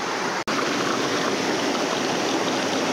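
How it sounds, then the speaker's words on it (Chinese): A mountain stream runs beside a road in a summer valley, a constant close rushing of water that stays even throughout, with no voices. "路旁有很多溪流"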